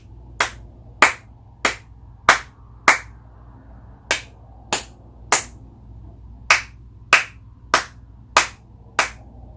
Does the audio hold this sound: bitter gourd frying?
no